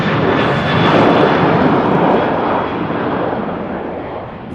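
A Ryanair airliner departs Manchester Airport, its jet engines a loud, steady broadband roar that holds throughout and eases slightly toward the end, with no talk.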